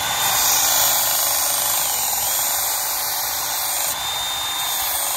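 A circular sander grinds the edge of a World War bayonet, a loud, steady high-pitched whine with a slight dip partway through, continuous and close.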